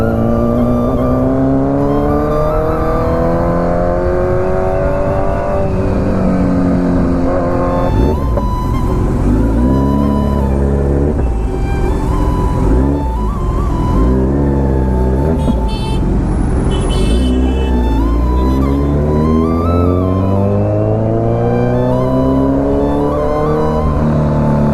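Kawasaki Z900 motorcycle exhaust roaring loud and close on a street in traffic, with revs rising and falling in repeated sweeps for the whole stretch and no talking.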